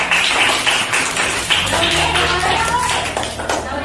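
A group of trainees at a teacher-training session claps on command, giving a few sharp bursts of hand claps followed by murmuring voices.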